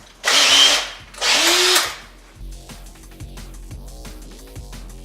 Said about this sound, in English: Maybe if I drill a hole through these ones that are solid PLA